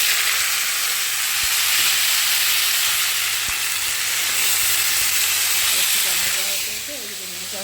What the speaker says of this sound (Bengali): এদিকে পোস্তটা বলি বসিয়ে দিই তো দেখো পোস্তর জন্য এখানে ফোড়ন আমি দিয়ে দিয়েছি